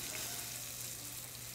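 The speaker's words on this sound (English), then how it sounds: "what we're doing here is a technique called pan frying" Fish pan frying in about 350-degree oil for a Creole fried fish dish, giving a steady, close hiss of sizzling with fine crackle throughout and no voices.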